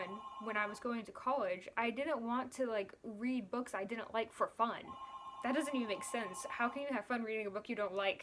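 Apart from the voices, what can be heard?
telephone ringing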